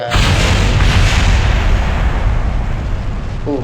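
A rocket's first stage roars loudly and steadily in the Kerbal Space Program video game, a dense sustained rumble that fills the whole moment and tapers slightly toward the end.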